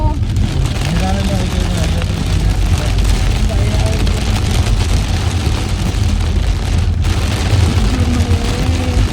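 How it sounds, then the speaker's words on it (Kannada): Heavy rain roars steadily and loud, a dense wash of noise with a low rumble beneath it and faint voices mixed in. "ಫುಲ್ ಜೋರ್ ಮಳೆ, ಮಚ್ ನೀಡೆಡ್ ಮಳೆ ಇದು ಅಲ್ಲವಾ"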